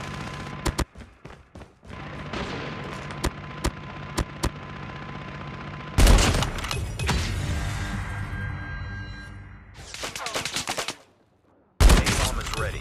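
Rapid automatic gunfire from a deployed sentry gun in COD Mobile, loud bursts of sharp shots in repeated volleys with brief pauses between, over constant game action noise.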